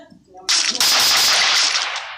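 A burst of rapid automatic gunfire in a video game rattles loud and close for nearly two seconds after a brief quiet lead-in, then trails off.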